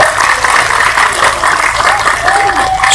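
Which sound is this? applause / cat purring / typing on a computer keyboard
applause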